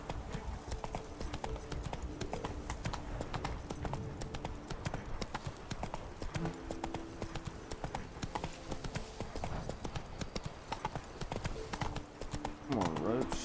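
Roach, Geralt's horse in The Witcher 3, gallops with steady rapid clip-clop hoofbeats throughout, close and continuous, while a person talks over the game sound and a brief whinny rises near the end.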